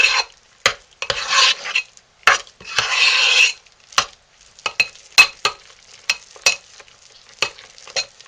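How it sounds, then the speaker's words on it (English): Essential oils being stirred into hot-process goat's milk soap in a pot: close, loud scraping and sloshing strokes in irregular bursts, two longer sweeping stirs, then a run of short sharp knocks against the pot, no talk. "now we're going to blend our essential oils into our soap"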